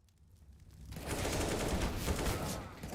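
Gunfire in a competitive video game match: a dense, continuous burst of shots after a quiet start, loud and sustained for about two seconds, with no talk.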